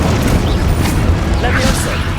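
Incendio fire spell cast in Hogwarts Legacy on PS5, a loud, dense booming whoosh of fire mixed with other combat effects, sustained and close throughout its short span.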